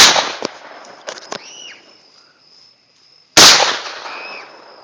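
Rifle shots from an AK-47 and an AR-15 ring out at a range: a sharp loud crack opens, a few lighter pops follow, then another close, powerful report with a ringing echo.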